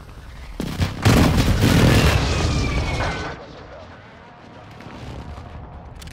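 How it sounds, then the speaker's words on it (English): An artillery strike in Call of Duty: Modern Warfare II lands as a heavy, loud explosion that rumbles for a couple of seconds and then fades into quieter background noise, with radio-style voices heard. "Strike inbound."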